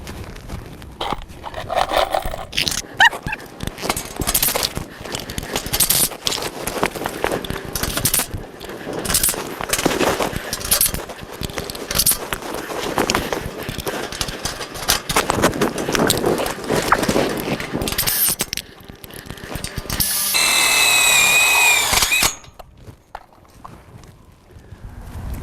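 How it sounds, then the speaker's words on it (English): Tek screws driven to fasten hoops to the bottom frame of a micro tunnel, with irregular rattling and scraping bursts followed by a steady few-second whir of a screw gun near the end. "And now we will attach the hoops to the bottom frame with Tek screws."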